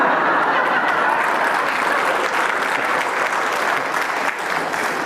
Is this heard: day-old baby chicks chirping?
no